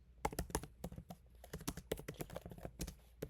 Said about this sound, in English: So I'll type again